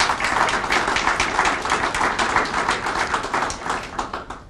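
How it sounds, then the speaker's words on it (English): An audience at a Prince George's County transit development event gives the council a round of applause, dense sustained clapping from many hands, close and loud, tapering slightly toward the end without talk. "can we give the council another round of applause?"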